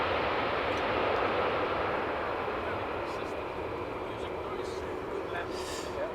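A loud Delta airliner lands on the Polderbaan runway at Amsterdam Schiphol on a hot, sunny day, its engines giving a steady, broad roar that stays strong throughout.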